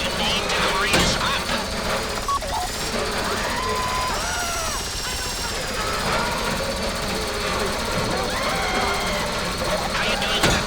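A drill grinds steadily into a deposit box during a bank heist in GTA Online, a loud, continuous mechanical drone with shifting whines, layered under game music and effects.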